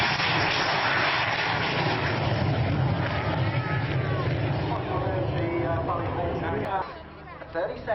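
Steady, loud drone of a Canberra aircraft's engines filling the cabin, with voices talking underneath; the roar drops off sharply near the end.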